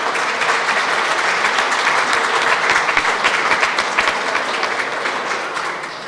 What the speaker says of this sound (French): Une bonne main d'applaudissements à tous pour votre implication monétaire.